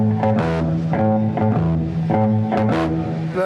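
Bass guitar played in a conventional fingered style, a close, clean run of distinct low notes in a steady rhythm with clear pitched tones and no voices.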